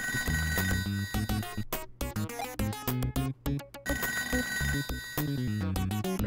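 Telephone ringing in the Toejam & Earl video game, a loud, busy electronic ring pattern mixed with dense game music and effects, repeating in bursts for several seconds.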